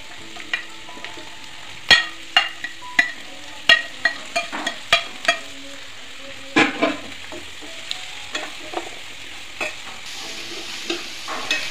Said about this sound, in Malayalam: നമുക്കിനി ഇതിലേക്ക് അരിഞ്ഞു വെച്ചിരിക്കുന്ന ബീൻസ് ഇട്ട് കൊടുക്കാം